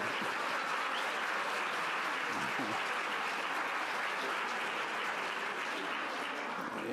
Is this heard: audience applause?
yes